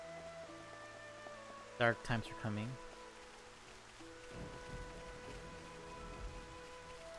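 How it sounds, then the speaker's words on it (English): Steady rain with lightning in a video game, a soft wash of falling drops heard under a short spoken line of in-game dialogue, with a low rumbling swell in the second half. "It's raining. With lightning."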